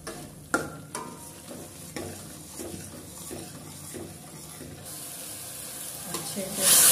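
Masala sautés in a pan as it is stirred, a soft close sizzle broken by repeated scraping and knocking strokes of a spoon, ending in a louder hiss of frying.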